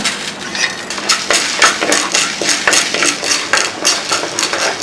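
A metal spoon scrapes and stirs dal and urad dal as they dry roast in a pan, making a loud, rhythmic clatter of repeated strokes with rattling grains and no talk.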